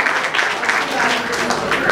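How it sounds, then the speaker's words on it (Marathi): Audience applause for a small child after a children's drama performance, a short burst of steady, fairly loud clapping from a crowd. "परत एकदा जोरदार टाळ्या."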